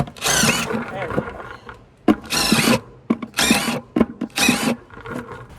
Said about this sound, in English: all I'm doing is taking a 5-gallon bucket and just drilling some holes in the bottom